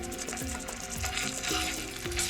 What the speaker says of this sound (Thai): so basically we're gonna fry gonna get smell nice from the garlic first